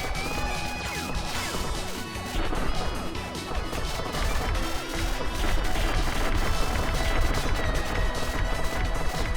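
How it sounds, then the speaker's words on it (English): Dense, continuous deep-sounding crashing and booming video game explosions from Revolgear Zero pile up with sharp impacts and debris clatter, loud and close throughout, with no voices. "The explosions in this are very deep sounding."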